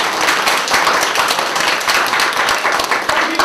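An audience at a workshop forum applauds, a dense, close wash of many hands clapping steadily for a few seconds.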